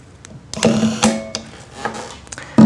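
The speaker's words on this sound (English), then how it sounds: "we're going to tighten these screws down to 4 to 6 inch-pounds" Small 4-40 screws are driven down on an E2 optical kit encoder, giving a few close mechanical clicks and short whirring bursts with no talking.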